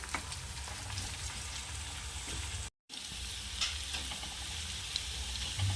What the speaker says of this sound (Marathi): छान मिक्स करायचं आहे कांद्याचा कच्चेपणा गेला पाहिजे